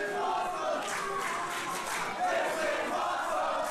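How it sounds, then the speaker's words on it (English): A standing-room-only wrestling crowd at Sam's Town Live chanting in unison during a tables, ladders and chairs match between Matt Hardy and Brian Cage, rhythmic massed voices rising and falling, distant and reverberant. "And as you can hear the crowd, they are chanting, "This is awesome.""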